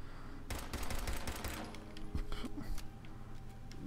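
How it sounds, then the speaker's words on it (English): The hair trigger pistol fires in Fallout 4 in a rapid burst of sharp shots from about half a second in, then a second flurry later. Cracks are close and loud against game ambience, with some voice in the background. "This was the hair trigger pistol."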